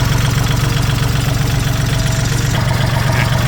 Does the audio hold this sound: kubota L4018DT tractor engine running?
yes